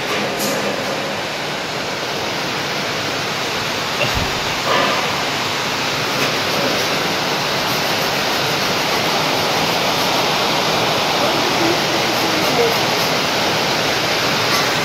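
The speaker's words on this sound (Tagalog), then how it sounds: "Grabe ang ulan guys oh." Heavy rain pours steadily and loudly as a dense, continuous hiss that fills the whole stretch, with a brief knock partway through and a few faint voices in the background.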